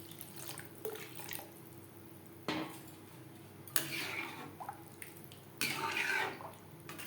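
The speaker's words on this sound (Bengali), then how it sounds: "আর দিয়ে দেব পরিমাণ মতো জল।" Water pours into a pot of vegetarian moong dal cooked with coconut, with close splashing surges and trickles coming in uneven waves.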